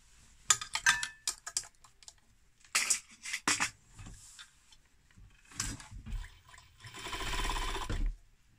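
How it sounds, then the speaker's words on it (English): An overlocker sews around an enclosed seam on a garment, with scattered clicks and handling taps from the fabric and machine before a short, steady whirring run of stitching near the end, close up and without speech. "I'm going to just go around that with my overlocker now"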